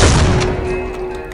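A heavy shotgun blast from the game Soldier of Fortune 2: Double Helix hits at once, loud and close, then decays into a ringing tail over about a second.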